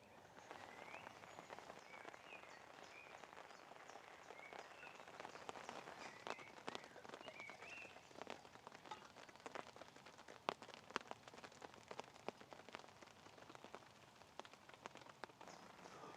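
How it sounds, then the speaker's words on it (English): Light rain patters steadily on a surface, a soft, constant hiss with scattered close drips, with no one speaking. "as you can hear guys, we are experiencing a little bit of a shower at the minute"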